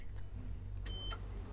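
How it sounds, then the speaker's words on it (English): Electronic lift button beeps in a skyscraper game: a short pair of tonal bleeps with stacked harmonics, fairly quiet over a steady low hum. "Buttons beep."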